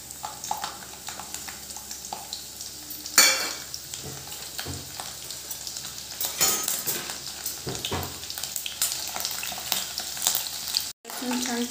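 Garlic sizzles in hot oil for a dill leaf and moong dal stir-fry, giving a steady, close crackle with occasional spoon clinks and stirring scrapes against the pan.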